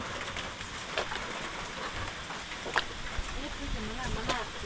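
Steady rain hiss with scattered pattering taps, falling outdoors during crab catching, with faint voices underneath.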